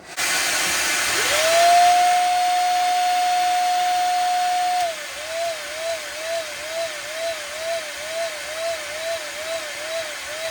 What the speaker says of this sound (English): Then I'm going to cycle the vacuum cleaner.